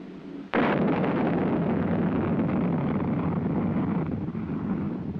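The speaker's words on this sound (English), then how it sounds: "Following the initial thrust provided by ignition of the first stage rocket motor" A missile's first-stage rocket motor ignites with a sudden loud blast, followed by a sustained roaring, crackling thrust that holds steady and close for several seconds.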